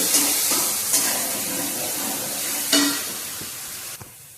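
Baby potatoes frying in oil for a curry, a steady sizzle with occasional sharper stirring scrapes and a brief clatter near the end.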